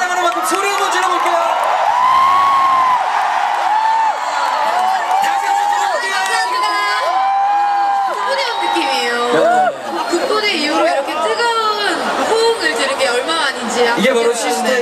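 A large outdoor university festival crowd screams and cheers for the K-pop girl group SISTAR, a loud sustained roar with high shrieks and whoops close around, with voices audible amid the din.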